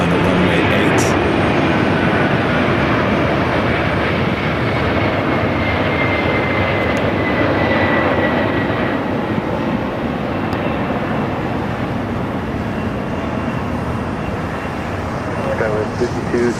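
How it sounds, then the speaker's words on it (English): An airplane takes off on runway 8 at Phoenix Sky Harbor Airport, its engines making a loud, steady broadband roar that holds for the whole stretch without a break. "We're on scene here at Phoenix Sky Harbor Airport for the official takeoff on runway 8."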